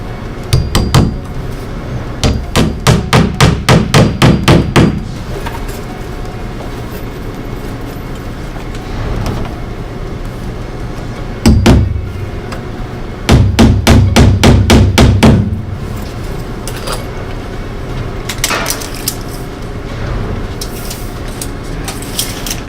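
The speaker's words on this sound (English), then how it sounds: "Nailing." Hammer driving fasteners into exterior house siding, heard as rapid bursts of sharp blows in several clusters, with quieter stretches between and no talk.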